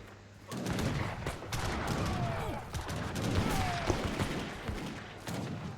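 A musket volley in a video game battle: a rolling crackle of many gunshots fired together, followed by a short sputter of scattered shots over faint background noise.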